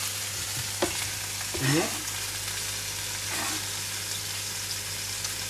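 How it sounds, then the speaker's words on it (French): Involtini browning in a frying pan, a steady quiet sizzle with a couple of louder bursts as the rolls are moved, and someone speaks briefly over it. "il ne reste qu'à colorer mes involtini"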